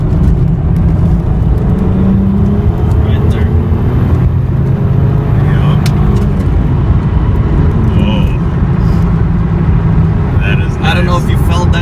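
A right-hand-drive Toyota Supra MK4 drives along, its loud, steady engine and road drone filling the cabin continuously, with a few faint voices inside.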